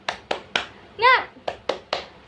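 Children in a primary school lesson perform a clapping chant: three sharp claps, a shouted word, then three more claps in a brisk, steady rhythm, close and loud.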